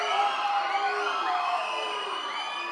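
A large audience roaring at a film audio launch event: a dense, sustained wall of cheering with shrill whistles and whoops sweeping through it, steady throughout.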